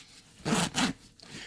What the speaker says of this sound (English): in these bigger YKK zippers, you got to make sure everything's lined up easy for it to pull easy